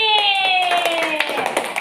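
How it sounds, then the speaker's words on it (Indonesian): Classroom children clap their hands for a classmate: a patter of scattered, uneven claps under a sustained, gliding tonal sound and background voices. "Tepuk tangan untuk Raffi."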